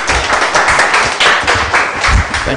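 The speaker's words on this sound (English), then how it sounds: "Please give him a round of applause." Audience clapping at a startup accelerator demo day, a steady wash of many hands with scattered sharper claps, fairly close and continuous throughout.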